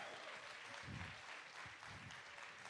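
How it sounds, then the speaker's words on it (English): A crowd at a World Radio Day 2024 forum claps steadily for the panelists in a brief burst of applause, fairly distant and uniform, with no voices standing out. "big round of applause for our panelists"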